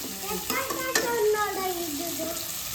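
Onions frying with salt in a pan, a bright steady sizzle with stirring scrapes and a couple of light utensil taps, close and alone.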